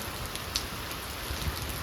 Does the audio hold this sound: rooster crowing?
no